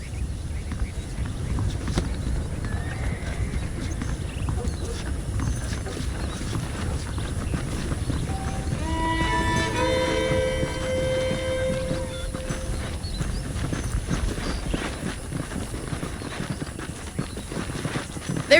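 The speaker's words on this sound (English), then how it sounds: "I picked out a fine horse for you." Horse hooves clip-clop steadily at a walking pace in the Red Dead Redemption video game, over a low outdoor ambience, with a few brief tonal game sounds in the middle.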